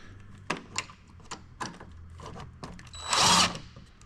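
Short bursts from a power tool run up fast as bolts are snugged down on a front splitter install on a 1999 Mustang, with a longer, louder whir near the end amid clinks of handling metal parts.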